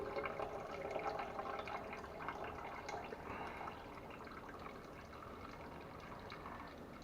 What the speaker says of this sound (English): I'm just pouring it straight in there, but I'm using the strainer to keep the shells themselves from going in.